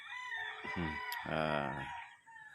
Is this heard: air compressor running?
no